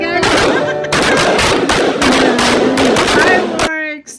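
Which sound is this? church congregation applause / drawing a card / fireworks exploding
fireworks exploding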